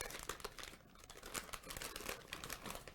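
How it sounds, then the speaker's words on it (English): A foil bag holding a test cassette is torn open, giving close, quiet crinkling and tearing in a run of short bursts with no voices. "I would tear open the foil bag"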